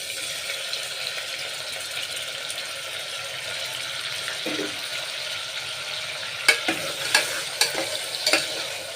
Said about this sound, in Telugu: ఇప్పుడు టమాటా, పచ్చిమిర్చి, కరివేపాకు వేసేసుకుందాం.